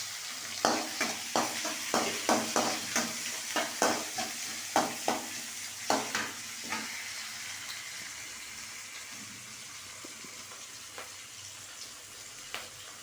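Half a tomato sautés in a pan of crab masala, with a run of rhythmic stirring scrapes over a soft sizzle that fades to a quieter simmer, close and alone without talk.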